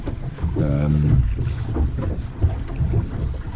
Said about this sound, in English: so the wind is picking up a little bit.